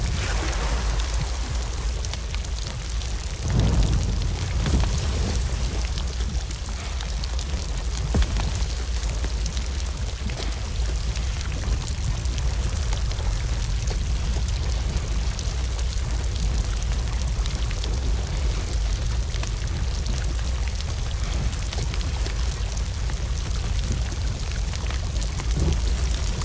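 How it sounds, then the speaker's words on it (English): Water pours steadily into the hull of a ship in the pirate game Sea of Thieves, a continuous rushing, splashing wash that stays loud and unbroken throughout, with one deeper thump early on. "the hull does slowly fill up with water"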